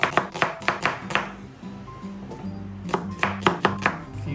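Onion being chopped on a board with a knife, a quick run of sharp, evenly spaced close chops, a brief pause, then another fast burst of crisp knocks.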